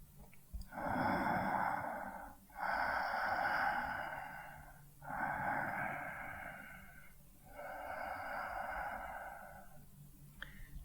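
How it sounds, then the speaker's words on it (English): Four slow, deep breaths during a hatha yoga standing pose, each a long, steady, fairly close airy inhale-exhale with short pauses between, heard alone without talk. "3 deep breaths."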